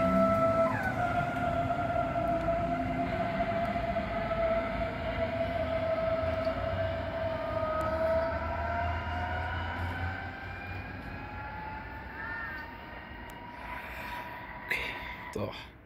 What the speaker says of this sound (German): Jetzt kommt der Dieselzug jetzt mal langsam. So, mit 5 Waggons wieder mal.